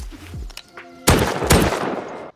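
Gunfire in the survival video game Rust: two sharp, loud bursts of shots ring out close by after a quieter stretch of low rumbling game sound, each with a brief decaying tail.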